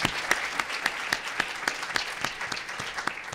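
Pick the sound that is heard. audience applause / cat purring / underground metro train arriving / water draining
audience applause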